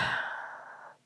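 One breathy exhale during a barre stretch, close and soft, fading out over about a second.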